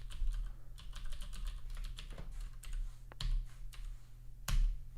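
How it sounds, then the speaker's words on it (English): Fast typing on a computer keyboard, with quick irregular key clicks and a few louder thumps, probably the space bar or enter key, picked up up close against a faint low hum. "You can actually see the bit string in Julia by typing in bitstring."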